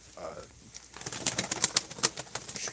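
Pigeons in a coop flutter and flap their wings in a quick burst of irregular wingbeats after a brief quiet moment, close by and moderately loud.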